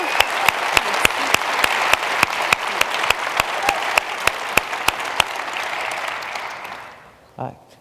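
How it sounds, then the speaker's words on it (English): A conference audience gives sustained applause at a closing session, a dense steady patter of many clapping hands that fades out near the end. A brief voice can be heard as it dies away. "I hope you will join me in giving Sarah a huge round of applause"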